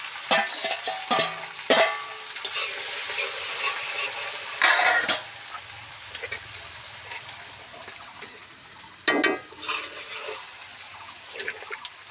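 Panch phoron seeds and ginger hit hot oil in a pan while cooking pachan, giving loud bursts of sizzling and crackling with sharp spattering pops spread across the span, easing between flare-ups.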